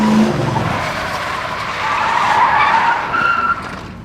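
A stunt car spins through a 180-degree turn with loud, sustained tire squeal and skidding, the screech rising and holding for several seconds over engine noise, close and with no talk.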